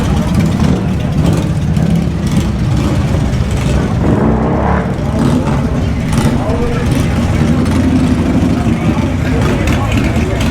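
Many motorcycles rolling into the Sturgis rally in South Dakota, a continuous loud rumble of engines revving and passing close by, with voices mixed into the steady traffic noise.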